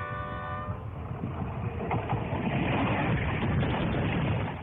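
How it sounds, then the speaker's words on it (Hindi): A train rolls past on a railway track close by, with a brief horn tone at the start, then a loud, continuous rumble and rattle of wheels that builds toward the end. "ट्रेन पटरी से गुजर रही है"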